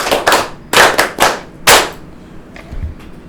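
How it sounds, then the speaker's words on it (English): An audience at a meeting gives a loud clap in a military style, with several sharp unison claps in a quick, uneven rhythm and fainter scattered claps trailing off after them. "ask my colleagues to give you a clap"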